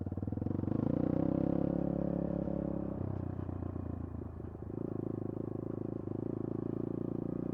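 A ZMAX motorcycle idles and putters on a Bulacan trail toward Talon Pari Falls, its engine note steady and close, dropping and shifting midway before settling back into a rough, throbbing run.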